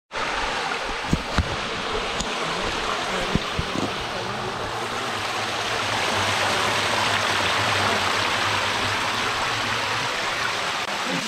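Small flow of the Degma waterfall near Nagpur on a rainy day, a steady rushing wash of water heard close, with a few sharp knocks early and a low hum joining midway.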